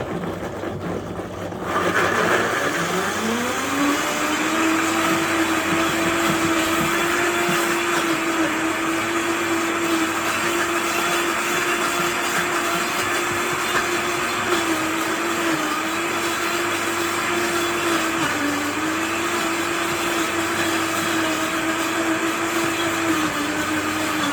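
A blender mixing a thick smoothie whirs up after a short pause and runs steadily at a loud, constant pitch for over twenty seconds, with slight dips in tone as the contents shift.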